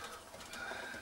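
Young tippler burden cocks, pigeons, give faint, steady cooing and fluttering at a distance, a soft continuous murmur with no talk over it.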